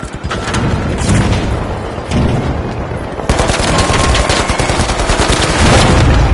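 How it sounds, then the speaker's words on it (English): A frag grenade detonates amid sustained automatic gunfire in the shooter game The Finals, with dense rapid bursts and booming blasts that stay loud and close throughout, swelling after a heavier explosion midway. "Frag grenade set. Sending a frag."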